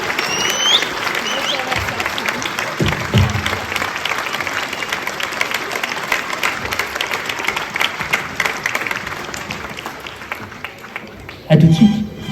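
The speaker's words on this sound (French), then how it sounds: "d'applaudir une nouvelle fois Alain" Extended audience applause for Alain Lamour at a mayor's New Year's greetings ceremony in Longpont-sur-Orge, continuous clapping that thins toward the end, with voices and a brief louder burst near the close.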